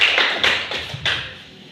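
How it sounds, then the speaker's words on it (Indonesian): A few sharp hand claps ring out in an elementary school classroom, four quick bursts in an uneven rhythm before the sound fades out. "Tepuk tangan."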